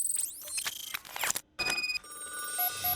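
A telephone rings in the RoboCop: Rogue City video game, with bright electronic trills repeating over a few seconds, mixed with game effects and a brief drop to near silence midway.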